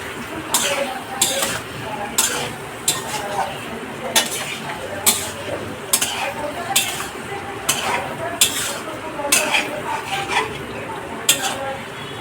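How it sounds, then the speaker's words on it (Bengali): A spoon stirs yogurt into a curry of potato and dhoka in a pan, giving regular scraping clatters against the metal at a steady rhythm over a soft sizzle, close and clear. "দইটা বেশিক্ষণ নাড়াবো না"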